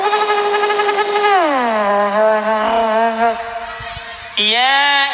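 A voice imitates a Ninja motorbike riding past, with a loud, buzzing engine-like whine that drops in pitch as it passes and then kicks up sharply again near the end.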